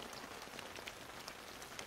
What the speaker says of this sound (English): Dear Vera, it's raining.